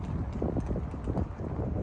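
Steady gusty wind buffeting the microphone, a continuous low rumble with fluctuating bursts, no voices.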